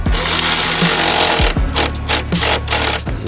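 A power tool tightens 13 mm intercooler bolts on a B9 Audi S4 during a grille and intercooler upgrade, giving a loud, close, continuous rattling buzz that briefly stops and restarts in short bursts, with no talking.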